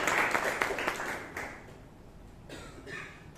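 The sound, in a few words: audience applause for a speech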